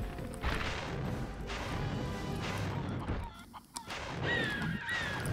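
Spyro 2 chicken in a video game, giving honking, fowl-like clucks over busy game music and crashing hits, with a couple of sharp squawks near the end.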